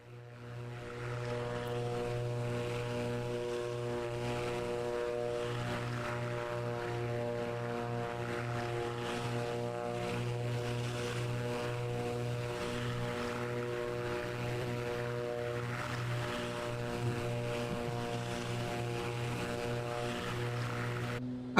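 Steady, even drone of a Beechcraft Baron B58 twin-engine propeller plane in a flight simulator, cruising low and slow over Sweden, engine hum constant and close throughout with no voices.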